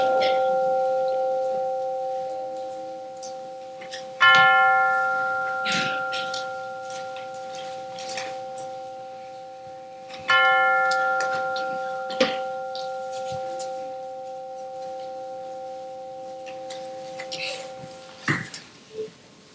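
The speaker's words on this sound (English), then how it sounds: "let us center our hearts and minds with the ringing of the chimes" Chimes ring out in two separate clear strikes, each leaving a long, shimmering decay, at a service streamed over Zoom, with faint rustling and light knocks between them.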